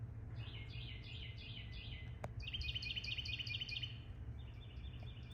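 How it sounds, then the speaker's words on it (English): Small birds chirp in a sub-tropical garden in quick repeated bursts of high tweets, fairly faint and distant over a low steady background hum, with no voices. "Can you hear the birds?"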